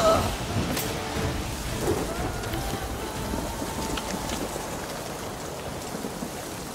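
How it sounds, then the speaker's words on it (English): Rain and rolling thunder in the Witcher 3 video game, a steady hiss of rainfall with a deep rumble that swells at the start and fades, continuous and fairly loud with no talk over it. "Oh look, it's raining."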